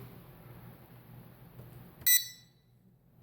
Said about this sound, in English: You heard the beeps. That means it is communicating with the helicopter.